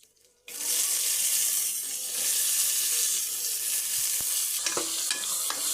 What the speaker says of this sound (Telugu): ఇప్పుడు ఇందులో ఉల్లిపాయ ముక్కలు పచ్చిమిరకాయ ముక్కలు వేసుకోవాలి